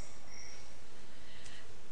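Crickets chirp steadily in a faint, continuous high trill that stays even throughout, with quiet background hiss.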